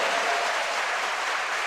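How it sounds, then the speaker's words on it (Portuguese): Church congregation applauding for Jesus, a steady, dense wash of many hands clapping, loud and even with no pauses. "Quem está alegre com Jesus, dê assim uma salva de palmas para Jesus."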